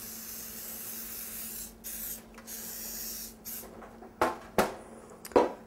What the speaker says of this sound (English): it helps if you just spray it with some nonstick spray